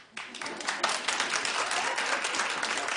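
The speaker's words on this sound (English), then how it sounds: "Okay, clap if you watched." A small studio audience on a daytime talk show breaks into clapping after a brief quiet start, the applause rising quickly and holding at a moderate, steady level to the end.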